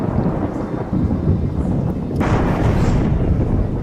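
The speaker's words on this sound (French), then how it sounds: "Voilà, il pleut." Rain pouring steadily with deep rolling thunder rumbling loud and close throughout, no voices.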